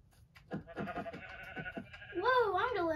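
A Minecraft sheep gives a loud, wavering bleat near the end, after a stretch of short thumps and a person's talk.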